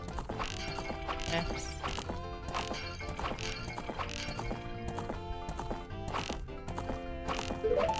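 Horse hooves clip-clop in a steady galloping rhythm in Legend of Zelda: Ocarina of Time, layered over continuous game music, with a brief whinny-like cue near the end and a short spoken interjection.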